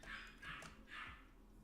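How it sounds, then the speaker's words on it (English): Dogs barking indoors at a distance, three muffled barks in quick succession, fairly faint against a low background hum. "Sorry, the dogs are barking."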